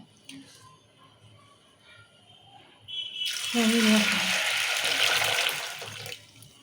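Peas for an aloo batani curry being rinsed in water: after a quiet stretch, a few seconds of close running and splashing water, then it stops.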